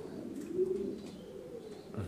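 A fancy pigeon perched in a basket gives a soft, low cooing, a muffled throaty murmur that rises and fades over a couple of seconds, close by with faint background noise.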